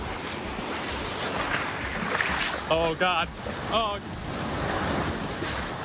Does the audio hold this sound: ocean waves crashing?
yes